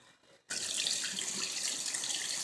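Water running from a household faucet, starting abruptly after a brief quiet moment and then flowing as a steady, faint, close splashing hiss.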